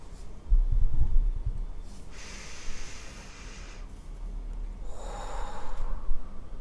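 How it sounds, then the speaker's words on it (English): People breathe together during a meditation, with slow audible inhales and long airy exhales rising and fading in a calm rhythm, with no talking. "So let us breathe."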